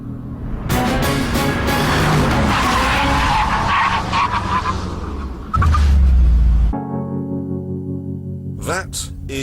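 A supercar, a McLaren Mercedes SLR or Porsche Carrera GT, brakes hard from 120 mph with a long, loud tyre skid and engine noise, then a sharp thump and a brief lull before a few faint squeals.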